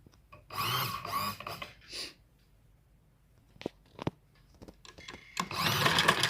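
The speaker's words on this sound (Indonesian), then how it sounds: "Akan menjahit lengan." A sewing machine stitches the sleeve of a garment, running in a few short bursts, with a longer steady run starting near the end, along with small handling clicks and knocks between the runs.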